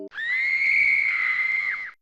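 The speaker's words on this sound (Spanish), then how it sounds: "escuchamos un grito, pero el grito venía desde las cañerías, con un efecto de eco impresionante" A long, high, wavering scream with a hollow echoing quality, as if coming from the pipes, rises over a quiet dark background and holds steady before fading in a horror story.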